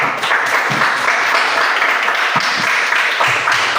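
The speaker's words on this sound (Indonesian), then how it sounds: "Ya, tepuk tangan untuk kelompok 1." A junior high school physical education class applauds a student group with a steady wash of clapping that runs through the whole moment at an even level.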